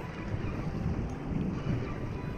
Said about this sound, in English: Oh no, jet skier, stay there.